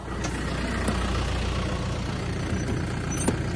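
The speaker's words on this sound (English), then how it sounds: "Oh, the tractor's moving." A farm tractor on the move, its engine giving a steady low rumble close by with faint clanks and hisses on top, holding an even level across a few seconds with no voices.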